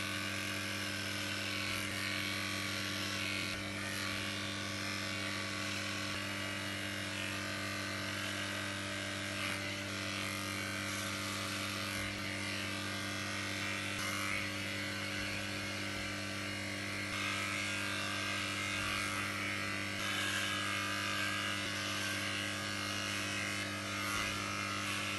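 Electric hair clippers buzzing steadily as they shave a head with a number 6 guard, a continuous near, even motor hum with faint variations as the blade moves through hair.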